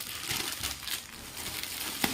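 Crinkling plastic wrapping as a packaged nightdress is opened, with soft, irregular rustles and crackles at close range and a sharper crunch near the end, no voices.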